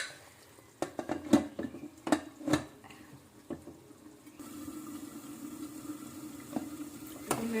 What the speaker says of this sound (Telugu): ఇప్పుడు మూత పెట్టుకుందాం మామూలుగా